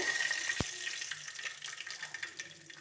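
Mustard seeds and cumin hit hot oil in a pan, giving a soft, steady sizzle dotted with faint crackles and pops and one sharp click near the start, with no talking.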